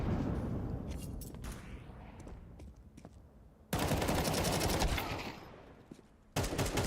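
Rapid gunfire sprays in a competitive esports shooter match, coming in dense automatic bursts with a loud stretch midway and another burst at the end, set against quieter in-game ambience.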